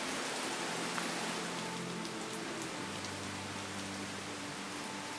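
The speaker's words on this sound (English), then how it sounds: "The sound of flowing water all around." Water flows steadily in a river running through a mountain glen among small waterfalls, a constant broadband rush heard alone with no voices over it.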